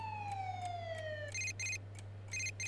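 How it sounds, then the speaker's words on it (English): Distant sirens in a video game, Persona 4 Golden, wail in a long falling tone, then switch to short repeated bursts, heard faintly over a steady low hum. "Can you hear sirens in the distance?"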